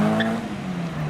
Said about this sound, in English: We have a Caterham 7 next up to leave.